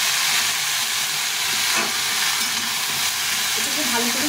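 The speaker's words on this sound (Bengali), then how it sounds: "এটাকে ভালো করে ভেজে নিতে হবে।" Mixed vegetables with amaranth stalks fry in a pan for a sweet pumpkin ghonto, giving a steady, close broadband sizzle with light stirring scrapes throughout and no voices.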